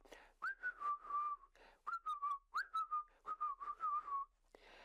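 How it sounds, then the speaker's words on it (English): A person whistles a tune while working, clear and solitary, with short rising notes leading into longer sustained, wavering tones across several phrases and brief pauses between them. "He whistled as he worked."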